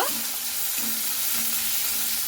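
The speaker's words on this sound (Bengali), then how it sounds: "এরপরে কাঁঠালের বিচিটা খুব ভালো করে এইভাবে আমি ভাজা ভাজা করে নেব।" Jackfruit seeds frying in a pan, a loud close continuous sizzle with a steady crackling hiss and light stirring, no voices.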